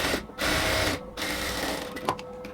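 An electric sewing machine stitches a women's dress top, a steady buzzing whir that runs in two bursts with short pauses between, close and alone.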